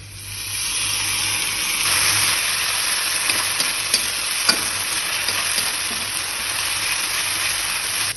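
Onion paste and spices, with whole cumin and sliced onion, fry in a pan under stirring, a dense, close sizzle with scattered scraping clicks from the utensil; no one speaks.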